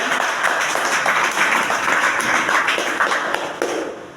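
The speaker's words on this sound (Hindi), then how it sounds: "मैं चाहूंगा एक बार जोरदार ताली बजाइए।" An audience at a seminar claps in a dense, continuous burst of applause that holds steady for several seconds before starting to thin out.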